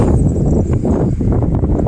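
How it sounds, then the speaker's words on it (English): Steady, heavy wind buffeting the microphone in the Smoky Mountains during wildfires, a continuous low roar with gusty fluctuations and no speech. "it's unbelievably windy"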